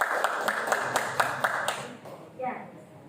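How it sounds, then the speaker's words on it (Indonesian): Audience members at a breastfeeding preparation class clap in a brief rhythmic burst of separate claps that stops after about two seconds, followed by a short spoken word. "tepuk tangan untuk kita semua."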